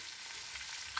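Fish heads rubbed with salt, chili and turmeric fry in a wok, giving a brief, quiet but steady sizzling hiss with one small pop near the end.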